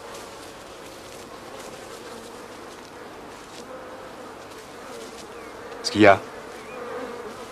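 Agitated bees buzzing as a steady swarm hum throughout, with a brief louder sweep near the end as one passes close; a short spoken question in French breaks in.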